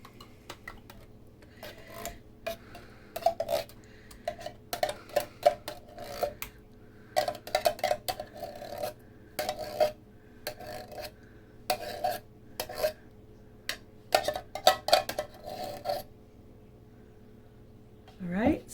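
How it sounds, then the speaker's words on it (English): Cherry cobbler filling and mix tipped into a slow cooker set on low, with a run of irregular scraping, clinking and rasping bursts from a spoon and cookware, close and moderately loud, separated by short pauses. "So I'm going to dump this in here."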